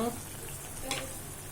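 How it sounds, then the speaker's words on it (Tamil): A steady low bubbling and hiss of date chutney simmering in a pot, continuous and close, with a brief faint clink partway through. "நல்லா கொதிக்குது பாருங்க"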